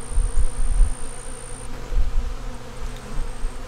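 Honey bees buzz steadily close by as they fly in and out of a dry pollen feeder made from a capped 4-inch drain pipe, a dense droning hum with a few louder passes and no talk.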